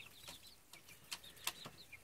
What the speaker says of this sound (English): And even our wild chicken that's been running around has been brought in.